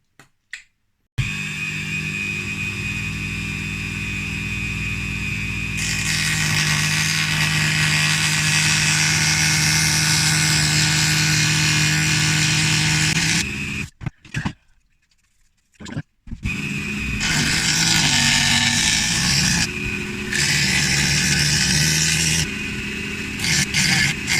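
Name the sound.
Dremel rotary tool cutting panel lines on steampunk jetpack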